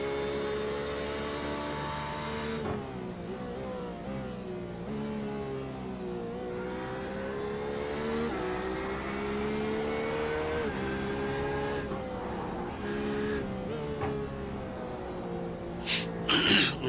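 Porsche race car in a racing video game at Circuit de Catalunya, its engine droning steadily with rising and falling revs through gear changes, loud and continuous for the whole stretch, with a brief burst of harsher noise near the end.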